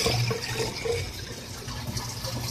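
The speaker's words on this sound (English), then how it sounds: "So you see how that's all flowing through there now." Water rushing steadily through a barrel aquaponics drain, a continuous close gurgling flow with no pauses or voices.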